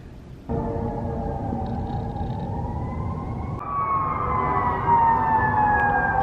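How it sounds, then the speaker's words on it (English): A fire truck siren wails on a Philadelphia city street, a loud tonal whoop that rises in pitch partway through over the rumble of the truck's engine and traffic, fairly close and sustained. "Now I'm seeing a fire truck carrying an American flag."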